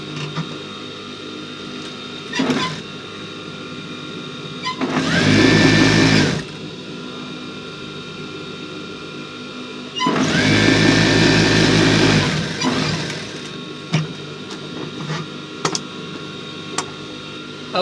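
A sewing machine stitches the placket of a men's shirt in two loud bursts of rapid whirring, each lasting a couple of seconds, separated by quiet handling clicks and taps nearby.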